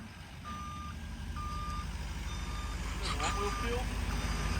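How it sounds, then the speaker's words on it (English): Backup beeper on a Ford 6.7 Powerstroke truck sounds in steady evenly spaced tones over a low diesel idle rumble, with people talking briefly near the end. "I can't believe it has a backup beeper."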